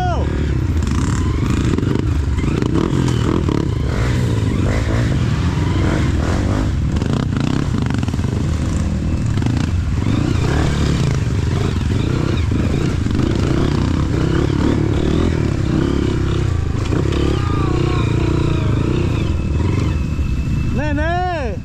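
A motorcycle accelerates along a muddy, overgrown forest trail after heavy rain, its engine snarling and revving loudly and close throughout, with clattering and scraping from the rough ground and people shouting over the noise.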